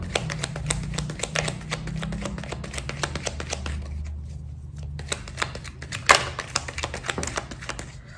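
Tarot cards drawn and handled in a reading: a steady run of soft, close taps, flicks and shuffling snaps, with a sharper slap of a card near the middle and no talk.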